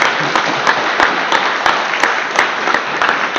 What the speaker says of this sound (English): I'm sure she can hear your applause through the computer